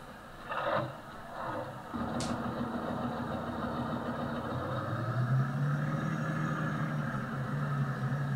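A Kirovets tractor in Farming Simulator 19 idles with a low, steady engine drone, a couple of short clunks early on, and the pitch rising slightly partway through as the engine revs a little.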